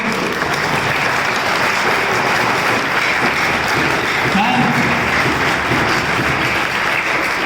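Room full of colleagues at a school retirement ceremony claps continuously, a thick steady roar of applause throughout, with a brief spoken word surfacing over it.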